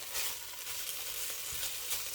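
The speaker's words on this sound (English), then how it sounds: "it's still making that sizzle" Steady, bright sizzling of stir-fry in a non-stick pan, a continuous crackling hiss with no talking.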